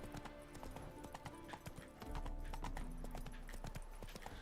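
Roach, the horse in The Witcher 3, galloping with dense rhythmic hoofbeats, fairly close and continuous, growing slightly heavier halfway through.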